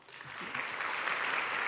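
A seminary chapel audience applauds an introduced professor, a dense spread of clapping that swells over a second and a half in a large room, with no voices over it.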